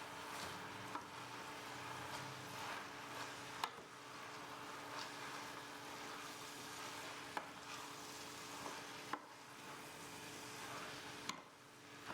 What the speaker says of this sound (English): When the spinach is wilted, add the spaghetti squash to the pan. Stir to combine.